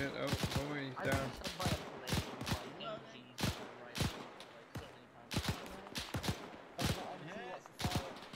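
Sharp, separate gunshots ring out roughly every half second to second in the WW2 military simulation game ArmA 3, fairly close, while people talk over and between the shots.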